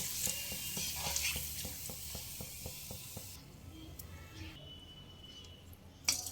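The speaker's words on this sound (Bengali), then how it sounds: "একটা কড়াইতে সাদা তেল গরম হতে বসিয়ে দিয়েছি দুটো দিয়ে দিলাম দেখুন খুব সুন্দর ফুলে উঠছে" Homemade rice papad puffs and fries in hot white oil in a wok, a constant crackling sizzle with a run of rhythmic taps, then quieter bubbling near the end.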